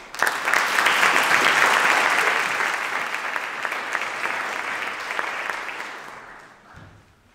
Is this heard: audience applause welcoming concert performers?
yes